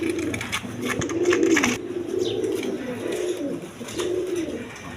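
A nun pigeon moving about coos repeatedly in low, rolling phrases, close up, with brief rustling and clatter in between.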